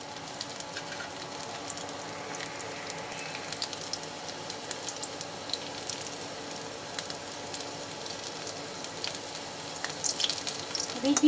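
Sabudana pakodi deep-fry in oil with a soft, continuous bubbling sizzle at moderate loudness, steady throughout and swelling slightly near the end, with no voices.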